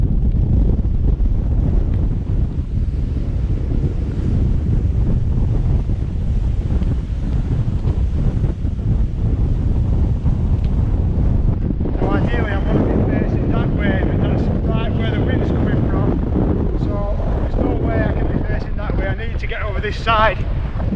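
Strong wind buffets a microphone on the rocky mountain summit of Grasmoor, a loud continuous roar with gusting surges throughout, and a voice faintly under it in the latter part.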